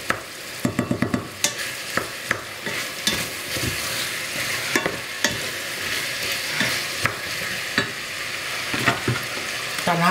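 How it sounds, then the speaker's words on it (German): Ingredients for a Bauerntopf sizzle in a frying pan while a utensil stirs and scrapes them, giving a constant hiss broken by repeated sharp clatters and scrapes, close and fairly loud. "Tun wir das kurz mit anbraten, rösten"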